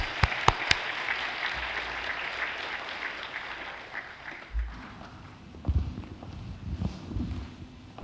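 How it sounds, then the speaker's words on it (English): An audience applauds the Dutch Minister of Education, Culture and Science at a public lecture, steady clapping that thins out, followed by scattered footsteps and shuffling. "Please give big applause."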